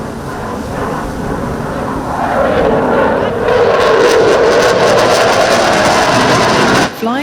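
A German Luftwaffe Eurofighter 2000 from Tactical Air Wing 31 performs a display at the Malta International Airshow 2025. Its loud jet roar swells and shifts in pitch as it passes, with a voice talking over it.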